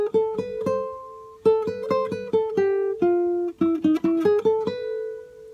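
Guitar repeats the first fragment of the Nicaraguan folk melody Balada Campestre, a run of crisp plucked notes in two phrases with a short pause between, close-miked with no voices.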